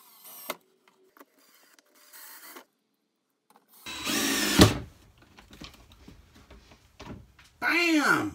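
A power drill pre-drilling holes for L brackets during a woodworking build, short whirring bursts separated by pauses, with a loud close burst midway and a rising whine at the end.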